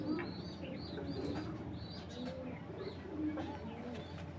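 Domestic pigeons coo softly in a loft, the calls overlapping in low, repeated bursts against a steady background hum.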